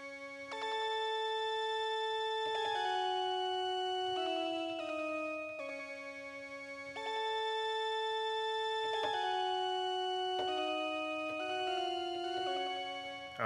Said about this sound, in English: next up is this lead, also once again from Analog Lab 2.